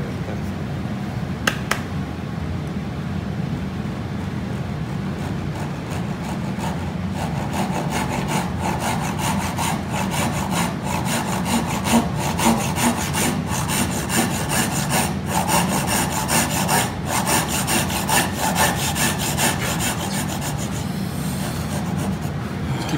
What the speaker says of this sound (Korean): 내가 좀 일단은 좀 톱질이 잘 되는 방향으로 진행을 하시는 거죠